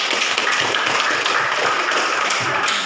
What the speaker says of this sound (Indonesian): Beri aplaus dulu untuk kelompok 1.